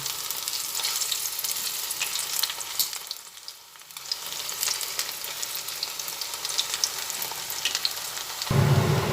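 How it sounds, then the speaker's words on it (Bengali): Rice and winter-vegetable pakoras frying in oil give a continuous bubbling sizzle with crackles, briefly easing before building again, ending with a louder clatter; no voices. "প্রত্যেকটা পকোড়াই দুটো দিকে উল্টে উল্টে ভেজে নিলাম"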